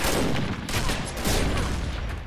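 Sniper rifle fire in the shooter video game Combat Arms, with a continuous barrage of gunfire and distant shots blending into a dense noisy roar, ending in one sharp loud close shot.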